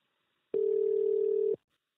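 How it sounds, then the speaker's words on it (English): Telephone in the background of a conference call during an earnings call, a single steady electronic tone lasting about a second, loud and sustained, with silence around it. "There's some phone is ringing on the background."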